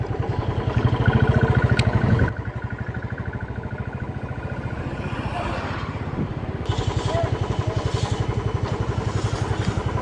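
A motorcycle engine putters steadily up close on a ride near Kalimpong, a loud, even pulsing rumble that drops in level for a few seconds and then rises again.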